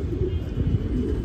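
Pigeons in a home loft give a brief, low, throaty cooing murmur, close and steady over a short moment with no speech.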